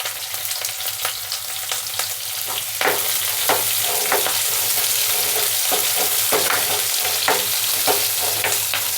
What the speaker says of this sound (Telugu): రెండు నిమిషాలు పచ్చివాసన పోయేదాకా వేయించుకుందాము ఉల్లిపాయలు